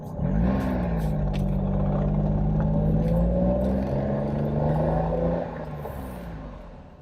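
A right-hand-drive 1991 Honda Beat micro car drives along with a steady small engine drone that rises slightly in pitch then eases off, heard from inside the car, loud and continuous.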